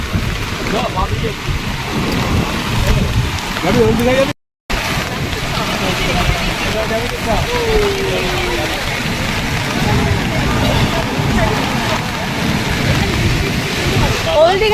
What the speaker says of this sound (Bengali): সমুদ্র সৈকতে এসছি সাথে বৃষ্টিও পড়ছে